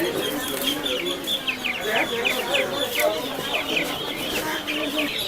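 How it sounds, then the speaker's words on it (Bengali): Clucking tiger chickens at a crowded bird and poultry market in Savar, a steady run of close, overlapping calls with people talking through the background. "এগুলো হচ্ছে টাইগার মুরগি"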